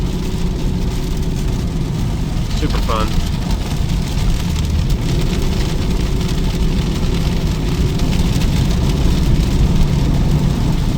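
An old classic Ford F350 truck with a 460 big block V8 runs while driving through rain and hail, a steady engine drone under constant drumming precipitation, with a person talking briefly.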